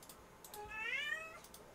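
A kitten lets out a single soft, rising meow, close and quiet, against a calm room background.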